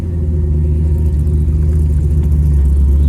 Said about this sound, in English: we're going to start off here in our 62 Corvette